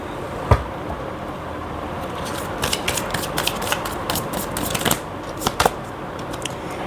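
Oracle cards being shuffled by hand, close and fairly quiet: a soft papery riffle with bursts of quick slapping and flicking, irregular and loudest toward the middle and end.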